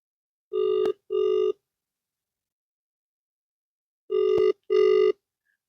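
A phone call being redialed gives a ringback tone in paired rings, two short buzzing tones, a long silent pause, then another pair, clear and alone.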